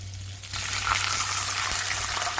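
Urad dal, mustard seeds and dried chillies frying in a little sesame oil in a kadai with curry leaves, giving a steady, close hiss and crackle that swells slightly after the start.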